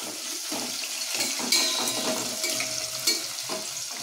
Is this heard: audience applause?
no